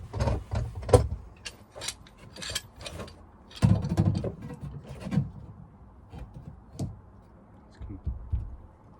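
Fasteners being torqued down on a camper roof vent, giving a run of short mechanical clicks and ratcheting bursts at close range, irregular and fairly loud, with quieter gaps between them.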